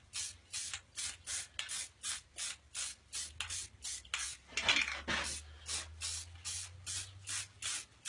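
Finish being sprayed onto wood in a woodworking shop, heard as a steady series of short rhythmic spray bursts, quiet and close, with no talking.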